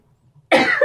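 A single sharp, close cough bursts out after a short quiet pause.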